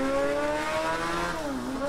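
A GTR sports car in a driving video game, its engine holding a loud, steady whine that dips and rises slightly as it pushes to catch up, with a hint of tire squeal and no voices.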